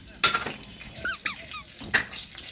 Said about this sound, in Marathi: कढीपत्ता आपला वाजायला लागला